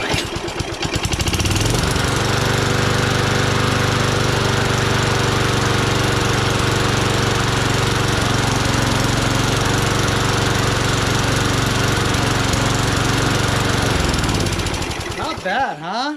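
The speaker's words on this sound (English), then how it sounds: "I'm gonna do some adjusting and get that RPM up a little bit." A small lawn mower engine runs after its carburetor was cleaned, starting up, then holding a loud, steady, close putter for more than ten seconds before cutting out and winding down.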